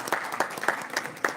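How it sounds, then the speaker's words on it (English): An audience at a spiritual discourse in a Sindhi temple in Canada claps, with several distinct hand claps standing out in a fairly even rhythm through a brief burst of applause. "a big round of applause"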